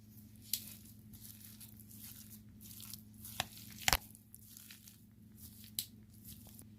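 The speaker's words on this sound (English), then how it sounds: "So I'm just going to mash my potatoes up." Boiled potatoes are being mashed by hand, giving quiet, irregular soft squishes broken by a few sharper taps over a low steady hum.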